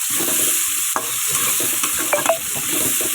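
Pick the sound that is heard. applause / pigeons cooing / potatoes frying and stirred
potatoes frying and stirred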